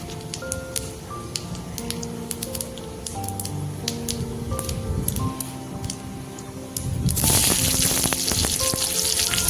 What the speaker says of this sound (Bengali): আর একটু তেল দিয়ে দিচ্ছি। ফোড়নে দিয়েছি গোটা জিরে